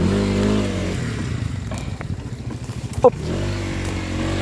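Skygo Lance 150 motorcycle engine idling steadily and then chugging unevenly with a clatter as it is moved in reverse, returning to a smooth idle, with a short spoken exclamation.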